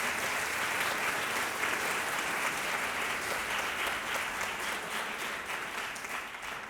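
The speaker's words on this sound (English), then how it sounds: "So, a round of applause." An audience at a choral concert of Haydn's Missa in Angustiis gives a sustained round of applause, a dense wash of clapping that stays loud and even before tapering slightly.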